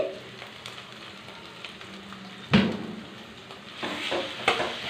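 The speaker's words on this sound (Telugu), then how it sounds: "టమాటా పేస్ట్ వేసుకున్నామండి. వేగింది." Tomato paste frying in a pan for an egg and potato gravy curry, a soft continuous sizzle with occasional scrapes of stirring and a louder spatula clatter near the middle and end.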